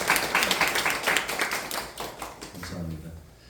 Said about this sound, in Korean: 수고했다라고 우리 격려의 박수와 함께 하나님께 영광의 박수 올려드리겠습니다